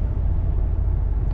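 Motorway traffic near Munich rumbles as a continuous, loud low roar, steady throughout with no distinct passing vehicles and no talking.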